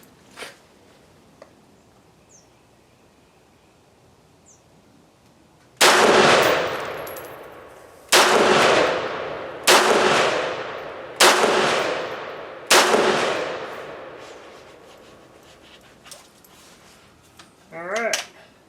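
A MarcLaMar CETME L rifle fires its first sight-in shots outdoors: five loud, booming reports with long ringing tails, spaced a second or two apart, followed by a quieter metallic rattle at the end.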